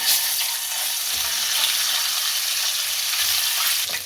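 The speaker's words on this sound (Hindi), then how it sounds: "लहसुन अदरक पेस्ट को फ्राई कर लें" Garlic ginger paste frying in hot oil in a kadai, a loud, continuous hiss and sizzle with occasional faint stirring scrapes.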